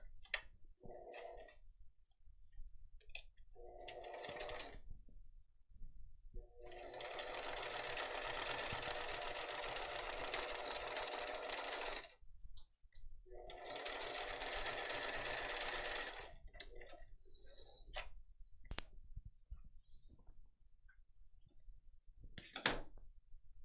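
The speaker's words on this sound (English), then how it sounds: "Now I'm going to zigzag within the seam allowance." A sewing machine zigzag stitches within the seam allowance of a tote bag, running in two long sustained bursts with a few short starts and clicks around them.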